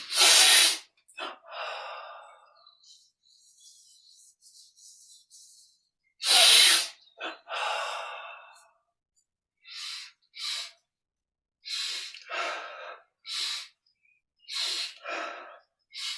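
Deep, sharp inhalations during a yoga and meditation breathing exercise, heard as forceful breaths repeated at irregular intervals, close and clear against near silence.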